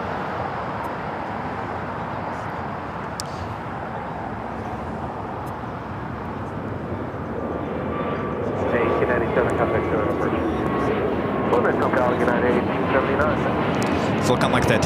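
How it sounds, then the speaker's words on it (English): A China Airlines Airbus A350-900 pushing back at LAX, a broad steady jet engine roar that swells louder partway through, heard from a distance with a commentator talking over it. "China Airlines, the A350-900, now pushing back."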